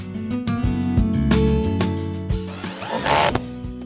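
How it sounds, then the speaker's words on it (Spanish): A power drill bores holes into a low wall for wall plugs while metal fence brackets are being fitted, its motor whining in steady tones with brief starts and stops, and a harsher grinding burst near the end. "Con una taladradora, haz los agujeros y coloca los tacos."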